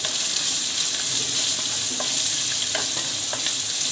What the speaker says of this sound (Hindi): इसे भी फ्राई करेंगे।